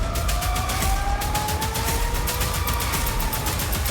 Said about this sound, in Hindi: कुवैत और बहरीन में हमले के चलते सायरन बजने लगे और अफरा तफरी मच गई।